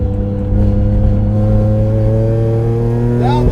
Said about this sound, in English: Easy to blip the throttle